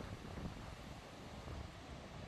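Gusts of wind blow down a mountain in a low, steady roar with broad rushing noise, faint and continuous, buffeting slightly without distinct pauses.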